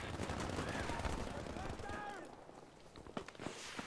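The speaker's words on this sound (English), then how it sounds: "It's amazing how a guy can shoot towards me and miss all his bullets with a Type 2A, except one." Rapid gunfire from a Type 2A in Battlefield V, a dense burst of close shots blending with game noise, fading after a couple of seconds and followed by a few scattered sharp cracks.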